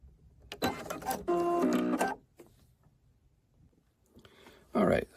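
A sewing machine stitching a buttonhole into thick quilt material, with short bursts of rapid mechanical whirring and clicking separated by quiet pauses, close and fairly soft.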